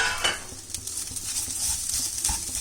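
A spoon scrapes and stirs coconut and jaggery in a frying pan over a low flame, with soft clinks and a faint sizzle underneath.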